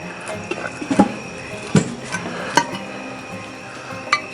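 A metal lid going back onto a Dutch oven at a camp cookout, with several sharp clinks and clanks scattered through a steady background hiss.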